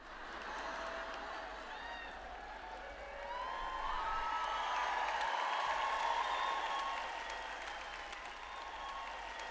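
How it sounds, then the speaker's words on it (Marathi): An audience at a Joyce Meyer sermon claps, a soft, distant wash of applause that swells in the middle and then fades slightly. "टाळ्या मनासारखे वाजल्या नाही आहेत."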